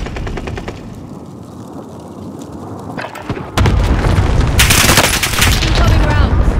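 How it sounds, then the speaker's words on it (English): Cluster strike explosions and gunfire in Call of Duty Modern Warfare: rapid rattling gunshots give way to a loud, sustained wall of booming blasts and crackling debris, dense and close. "Allied cluster strike arriving."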